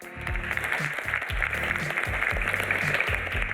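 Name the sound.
audience applause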